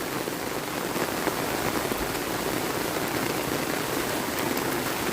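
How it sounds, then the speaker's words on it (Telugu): Heavy rain pours steadily at Srinivasapuram while floodwater rushes past, making a dense, constant wash of hiss and splatter with a low watery rumble underneath and no voices. "వర్షం బాగా ఇబ్బంది పెట్టేస్తుంది."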